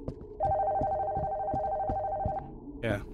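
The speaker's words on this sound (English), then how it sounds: "Phone from upstairs is ringing." A telephone rings from upstairs in the Nocturnal Visit horror video game, its steady electronic trill repeating for about two seconds at moderate loudness, followed by a short burst of other noise at the end.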